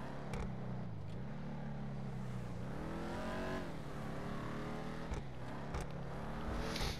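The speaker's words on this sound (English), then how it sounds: "It's just a beautiful car." A car engine in GTA5 drones steadily and loudly, rising and falling in pitch as it revs and accelerates. There is no talk.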